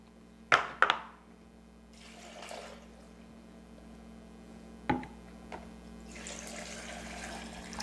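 Water being poured into a blender for almond milk, heard as a few short splashing pours separated by sharp clunks and taps of the container in a quiet kitchen, with a soft background hum.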